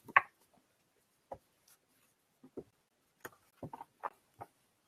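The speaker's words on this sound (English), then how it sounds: "I'm just shuffling cards again" Tarot cards are shuffled in a quiet room, giving a sparse series of soft papery flicks and taps at irregular intervals with no talking.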